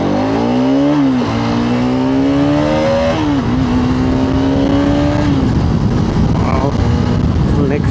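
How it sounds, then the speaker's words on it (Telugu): A Bajaj Pulsar RS200 motorcycle is ridden, its engine droning loudly and steadily, rising in pitch through gears with brief dips at shifts, under continuous wind and road rush. "టుడే మనం RS200ని రైడ్ చేద్దాం."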